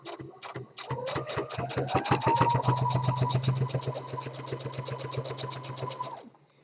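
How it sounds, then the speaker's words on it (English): A sewing machine runs an edge stitch with an edge foot along a seam, starting with a few slow needle thumps, then speeding into a fast, even mechanical chatter that holds for several seconds before stopping. "Put it through the machine."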